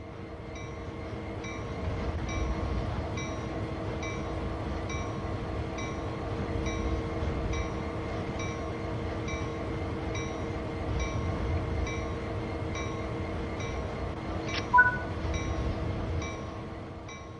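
Diesel freight locomotive on Sand Patch Grade in Train Sim World 6, a steady rumbling engine drone with tonal hum and faint rhythmic clatter, continuous and fairly quiet with a brief sharp click near the end, no voices.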